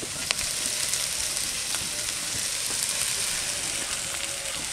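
Boiled chowmein noodles go into a hot pan for restaurant-style chicken noodles, giving a loud, dense, continuous sizzle with a few faint clicks.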